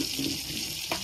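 Kitchen tap water running steadily into a sink while fish and chicken are washed in a village home, a brief close continuous flow with a small splash near the end.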